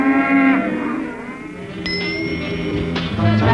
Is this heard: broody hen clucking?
no